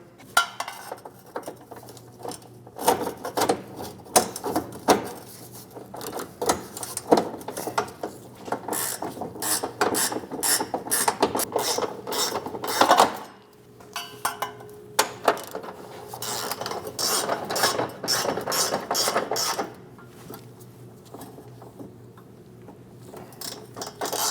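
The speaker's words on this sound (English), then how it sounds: "Snug the bolts down." Ratchet snugging fuel pump tank bolts on a 2016-2025 Chevrolet Malibu 1.5L L4, rapid close clicking in repeated bursts with short pauses and some metallic handling between runs.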